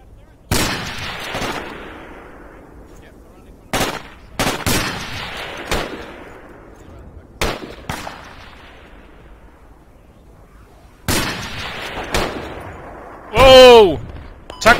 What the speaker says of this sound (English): I heard enemy tank fire.